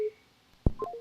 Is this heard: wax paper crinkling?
no